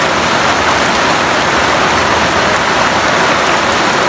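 Heavy rain pours steadily during a storm in Bataan, a dense, loud, unbroken hiss of downpour with no talk over it.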